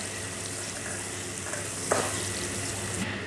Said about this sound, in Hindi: प्याज को भून लेंगे, इसको ब्राउन कर लेंगे।